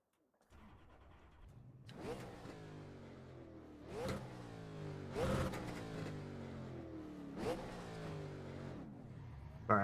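Simulated NASCAR race car engine at Darlington Speedway in the iRacing game, a steady mid-pitched drone with repeated rising revs and gear-shift surges every second or so, loud and continuous throughout.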